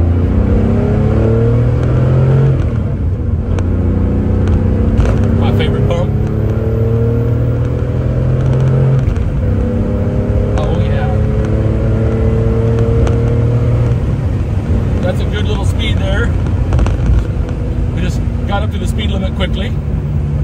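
A 1974 Porsche 911 Carrera engine revs under throttle, a loud steady mechanical drone with rising and falling pitch sweeps across the whole stretch, while a person talks over it.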